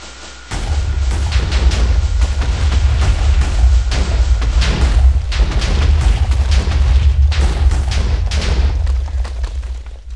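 A siege engine in the Minecraft Ancient Warfare mod fires again and again, a dense string of booming thuds that carries on without pause over a constant low rumble.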